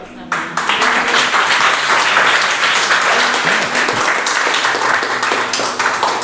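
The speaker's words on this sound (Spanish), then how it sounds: "dale un fuerte aplauso al Señor" Church congregation giving loud applause to the Lord, a dense, steady roar of many hands clapping close and sustained throughout, with a voice speaking over it.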